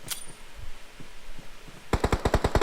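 Gunfire in a video game: a rapid burst of about eight loud, evenly spaced shots near the end, after a few scattered quieter thuds.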